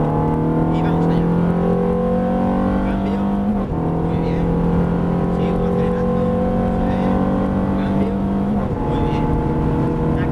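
A Ferrari F430 accelerates on the Circuito del Jarama race track near Madrid, heard from onboard as a loud, rising engine howl with two brief dips at gear changes, and a voice talks over it.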